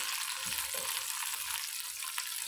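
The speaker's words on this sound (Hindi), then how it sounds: "ऑयल जब गर्म हो जाए, इसमें 3 सब्ज़ इलायची, 3 लौंग, दालचीनी 1 स्टिक, सौंफ 1 टेबलस्पून, हस्बे ज़रूरत किशमिश, कोपरा, बादाम डालकर 20 सेकंड फ्राई करें।" Green cardamom, cloves, a cinnamon stick, fennel seeds, raisins, dried coconut and almonds sizzle in hot oil, a steady close frying hiss with faint soft knocks of stirring and no voices.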